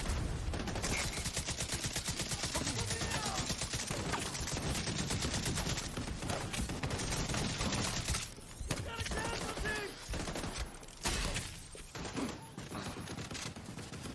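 An automatic turret in the video game The Division 2 keeps firing in long rapid bursts, loud and continuous, with brief gaps near the end and occasional shattering sounds.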